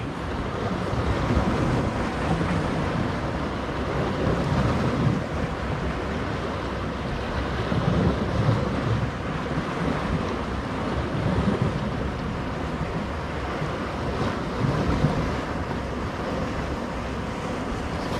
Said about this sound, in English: I don't want to disrupt the sound of the ocean here too much by rambling the whole time